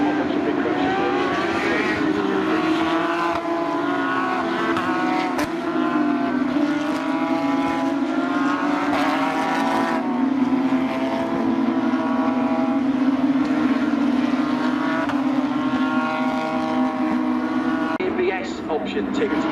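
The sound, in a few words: Porsche GT3 Cup race car engine at Road America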